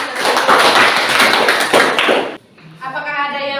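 Students in a classroom clap their hands together in a dense, loud burst for about two seconds, then it stops abruptly and a voice starts talking.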